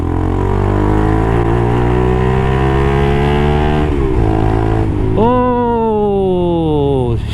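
A Taro GP1 motorcycle engine drones steadily at close range, then blips into a sharp rev near the end and climbs in pitch, loud and continuous throughout.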